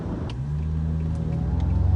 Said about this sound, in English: if you can hear that car, that's this jackass that just went around somebody else's car on the right shoulder to get ahead